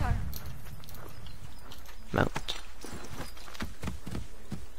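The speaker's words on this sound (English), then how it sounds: "I can already hear the horse clomping." Horse hooves in the video game Assassin's Creed III clomp at a walking pace under a talking voice, steady and fairly close, with a brighter burst midway.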